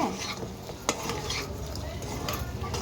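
A spoon scraping and stirring chicken fry curry in a cooking pot, with steady scraping strokes, a sharp metal clink and a soft sizzle underneath, close and continuous.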